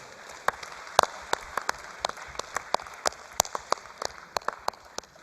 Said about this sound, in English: shareholders, please give them a good round of applause.